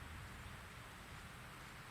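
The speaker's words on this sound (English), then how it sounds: "It's raining again." Steady rain falls in the Fatal Frame 3 video game, a soft continuous hiss of drops on surfaces that stays even and fairly faint throughout with no voices.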